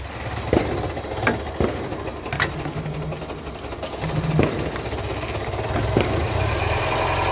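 Car engine idling with a blown exhaust manifold gasket, a steady low rumble with sharp ticking puffs that recur every second or so, close and fairly loud, no voices.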